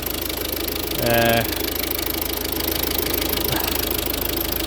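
A Ford Focus engine with a misfire history idles with a steady, rapid low pulse, close by, while someone speaks briefly over it.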